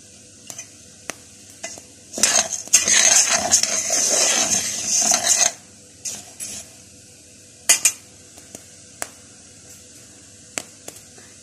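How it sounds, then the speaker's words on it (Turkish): Wheat for kavurga roasts in a hot steel pot as a spoon scrapes and stirs it. A burst of sizzling crackle comes in the middle, with sharp clinks and pops scattered before and after. "Kavrulurken çıtır çıtır sesler gelecek. Bu buğdayın içindeki suyun patlayarak dışarı çıkması."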